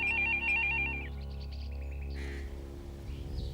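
A telephone rings in a Pakistani Urdu TV drama scene, with a warbling electronic two-tone trill repeating for about a second, then stopping as lower tones and room sound carry on.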